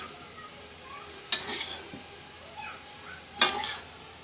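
A spoon stirs Schezwan egg fried rice in a small kadhai, giving two quiet, separate bursts of metallic scraping and clatter against a near-silent background.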